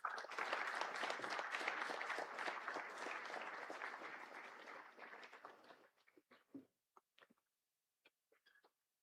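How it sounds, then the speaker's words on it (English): An audience welcomes a minister at the inaugural session of a future-focused summit with dense, sustained applause that fades out over several seconds, leaving a few scattered final claps. "let us welcome Honorable Minister with a thunderous round of applause"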